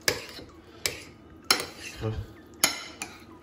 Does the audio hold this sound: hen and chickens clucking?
no